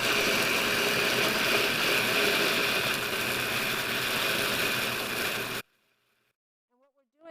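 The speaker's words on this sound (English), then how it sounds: "This is kind of like a bullet, and it works really well if you have that, but a food processor would work really well too." A bullet-style blender whirs loudly and steadily close by for several seconds while processing food into a dough-like mix, then cuts off abruptly into silence.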